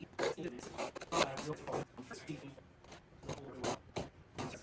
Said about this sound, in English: if you go against the grain with the way the saw teeth go, it'll still cut you a nice little notch